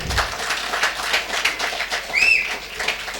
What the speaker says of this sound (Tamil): அப்போ எல்லாம் கைத்தட்டுங்க அவருடைய நல்ல குணத்துக்கு